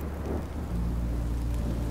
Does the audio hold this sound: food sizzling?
no